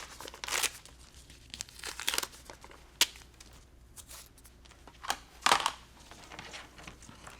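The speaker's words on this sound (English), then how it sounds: "And then pull your paper off." Foundation paper torn and peeled away from a sewn sunburst quilt block, heard as several sharp crinkling rips with quieter rustling between them, close and alone.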